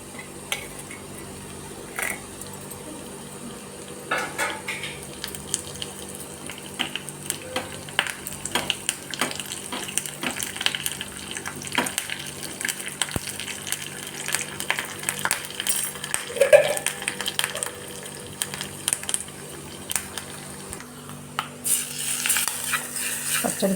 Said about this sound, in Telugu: పచ్చడి పోపు పెట్టేసిన.